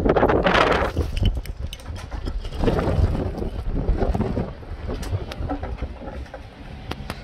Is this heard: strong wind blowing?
yes